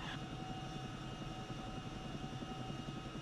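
Chinook twin-rotor helicopter in a video game, a steady droning rotor and engine roar at constant volume throughout, with no talking.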